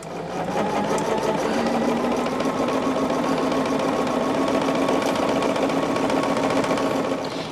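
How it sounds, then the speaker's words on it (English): A sewing machine starts up again after its bobbin is rethreaded, running steadily and close with a dense, even mechanical whir and rapid stitching chatter for several seconds without pause. "I ran out of bobbin there, so I'm having to get it going again."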